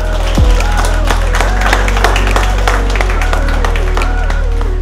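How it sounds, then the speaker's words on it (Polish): A crowd claps steadily in sustained applause throughout at a folk film festival, with music or a low hum underneath. "Waldemar Kosowski, brawa."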